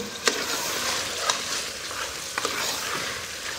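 Powdered dry coconut frying in oil in a pan, a steady close hiss of sizzling with a few sharp stirring clicks and scrapes, no speech.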